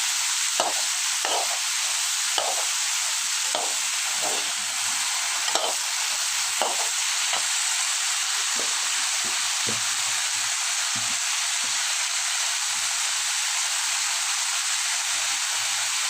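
Cauliflower and potato fry with turmeric in a pan, a constant close sizzle broken by a regular series of spatula stirs and scrapes against the pan, with no voices.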